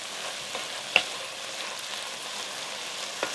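Mushrooms frying in a pan make a low, even sizzle, with a couple of sharp pops and ticks from occasional stirring.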